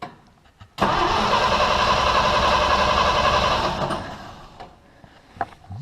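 An S160 engine cranks over with its fuel pump running and discharging into a bottle: a loud, steady mechanical churning starts abruptly, holds for about three seconds, then fades and stops, followed by a few small clicks.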